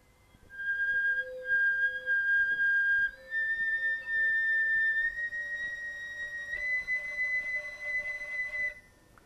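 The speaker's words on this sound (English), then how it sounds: "Whisper tones are very soft sounds on the flute." Soft, airy flute tones sustained as long notes, stepping upward in pitch several times, quiet and close with no talking.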